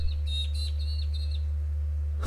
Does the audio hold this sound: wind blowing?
no